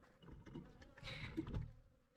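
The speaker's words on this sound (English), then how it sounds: "I'm sure you can hear them buzzing" Bees buzz faintly at close range in the desert, a wavering hum that swells and fades as insects drift past, with soft rustling underneath.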